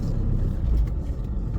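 A car engine rumbles low and steady at close range for a moment during a slow three-point turn, heard on its own with no talking.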